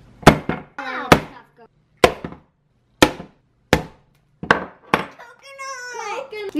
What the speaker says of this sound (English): we'll just bust it open with a hammer to get the flesh out